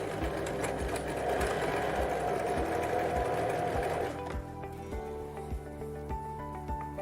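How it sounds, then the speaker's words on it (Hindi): Sewing machine stitching a curved sleeve to an armhole: a fast, even run of needle strokes for about four seconds, then the motor slows and stops, leaving a faint hum, close up. "इन्हें अलाइन करने के बाद अब हम इन्हें स्टिच करेंगे।"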